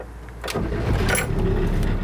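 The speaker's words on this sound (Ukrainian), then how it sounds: "Двигун зацініть, як заводиться" A 30-year-old car engine is started with the key: after a brief quiet moment the starter engages and the motor catches almost at once, settling into a loud, steady running note close by.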